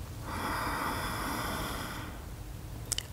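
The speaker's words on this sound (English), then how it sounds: "breathing in" A person draws in a slow, steady breath during a square breathing exercise, a soft airy inhale lasting about two seconds close to the mic, fading into quiet.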